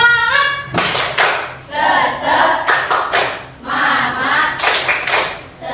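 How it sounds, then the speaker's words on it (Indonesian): A classroom of students performs the rhythmic tepuk semangat clap routine: a single voice opens, then the class claps together in short, loud patterned bursts and quick runs, separated by brief pauses, with chanting voices mixed in. "Tepuk semangat."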